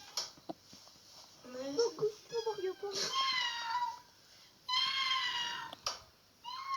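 A Norwegian-breed kitten meows several times indoors, in high, thin, drawn-out cries that come in short clusters and are fairly quiet, with soft room noise between them.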